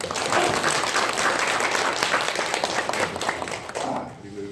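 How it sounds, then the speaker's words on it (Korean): A church congregation gives a sustained round of applause during a Sunday service, steady and full for several seconds before thinning out at the end. "그분들의 노에 감사하는 박수를 한번"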